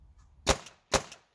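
Paintball marker dry-firing on an empty magazine, two sharp hollow pops about half a second apart, close and fairly quiet with no talking.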